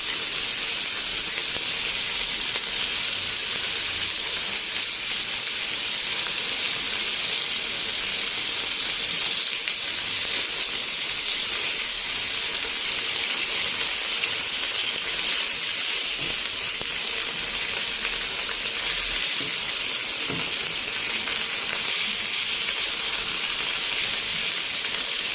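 Beef pieces sear in a hot pan, a steady, even hiss and sizzle that carries on without a break, fairly close and with no voices over it.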